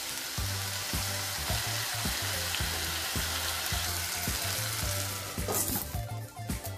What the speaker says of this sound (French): pour épices qui sont bien frites, pour tomates qui sont bien frites là-dedans